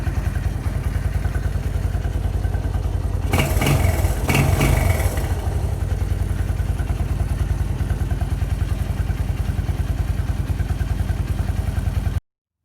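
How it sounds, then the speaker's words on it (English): A motorcycle engine runs after a quick carburetor cleaning, a loud, steady close-up idle with a short rev burst early on, then it cuts off abruptly. "the bike is running like a champ"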